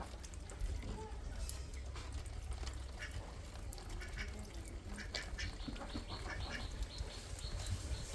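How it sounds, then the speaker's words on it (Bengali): Ducks quack repeatedly at a moderate distance outdoors, short calls scattered over a steady low rumble of background noise, with no voices. "হাঁসগুলো হেবি কিন্তু জ্বালাচ্ছে"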